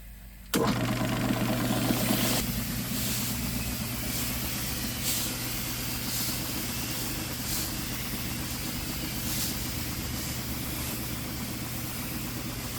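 Pesticide sprayer engine at a grape orchard starts with a sudden bang and then runs at a steady, loud droning idle, with faint periodic pulses over a continuous low hum.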